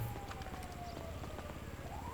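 Police car siren in the video game GTA V, a faint wailing tone sliding down then up against steady game background noise, sounding somewhat distant.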